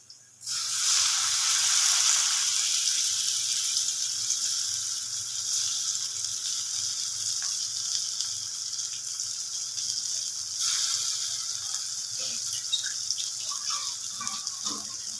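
Tomato added to a pan of frying mrigal fish with turmeric and Kashmiri red chili powder, a loud continuous hissing sizzle that starts abruptly and holds steady throughout, with faint scraping of stirring and no talking.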